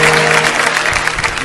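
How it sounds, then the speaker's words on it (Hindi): Brief burst of applause during an online devotional bhajan gathering honoring a late folk poet, broadband clapping heard for a moment, somewhat compressed and a bit hollow. "जोरदार तालियां हो जाए आपकी"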